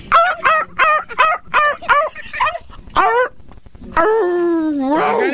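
Dog barking in a quick series of sharp, harmonic barks, then breaking into a long rising-and-falling howl, loud and close, with no one talking over it.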